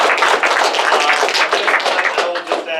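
Students in a classroom applaud after a guest talk, a loud close burst of many hands clapping with some voices mixed in, lasting a few seconds before tapering off.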